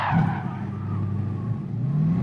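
A Jaguar Gr3 race car on the Nordschleife in a sim racing game runs wide onto the curb, steady loud engine drone with tyre scrub and rumble from the kerb throughout.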